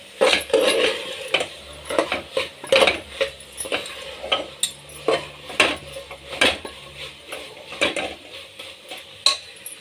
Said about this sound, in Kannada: ಇದಕ್ಕೆ ಕಾಯಿ ತುರಿಯನ್ನು ಹಾಕೋಣ. ಇದನ್ನು ಮಿಕ್ಸ್ ಮಾಡಿ ಸ್ವಲ್ಪ ಫ್ರೈ ಮಾಡೋಣ.